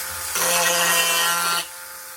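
A rotary tool sands a plastic door window cutout: one loud burst of high-speed grinding, about a second and a quarter long, rises abruptly over a quiet motor whine and then cuts back off.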